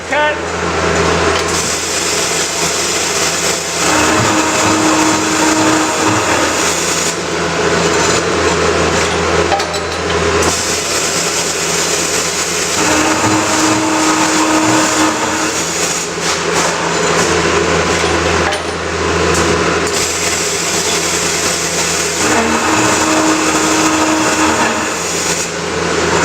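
A Scotchman CPO 350 HFA CNC cold saw cuts metal with a steady, loud machine drone that runs without a break, while a grinding blade tone rises in three separate passes.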